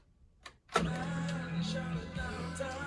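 A faint click, then a louder mechanical clunk followed by a steady motorized whir from an Akai GX-646 reel-to-reel tape deck operating its pause function, close and without speech.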